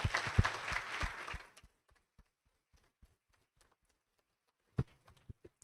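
Applause from a lecture audience celebrating the 78th anniversary of a university medical course: a burst of dense clapping that fades away within about a second and a half, followed by near silence with scattered faint knocks.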